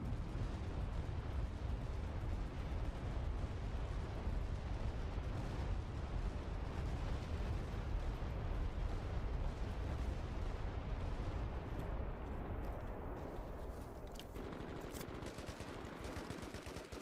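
Heavy, continuous battlefield din in the Vietnam-era shooter Hell Let Loose Vietnam, with grenade launcher explosions, dense gunfire and rumbling blasts layered loudly without a break.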